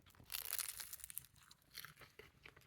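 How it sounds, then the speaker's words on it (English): Close, crisp crunching of a bite into flaky Bulgarian tikvenik pumpkin pastry, followed by a few softer crackles as it is chewed. "Listen to that perfect crunch."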